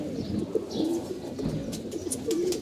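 A racing pigeon coos in soft, repeated low murmurs, close by, over a busy background of other birds chirping.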